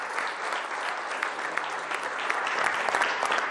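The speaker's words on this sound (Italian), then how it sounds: "allora Enrico, ti facciamo un grosso applauso da trasmettere a tutto Sestri, calcistica." Steady applause from a studio audience at the close of a local sports talk broadcast, dense and even throughout, with no speech over it.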